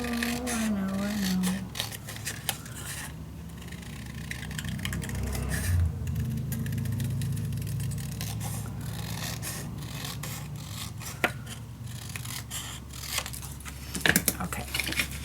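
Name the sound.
cutting out paper for a vintage mini album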